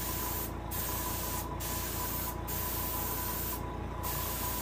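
Paint is sprayed from an airbrush onto a largemouth bass taxidermy mount, a continuous close hiss with four brief breaks as the spray pauses.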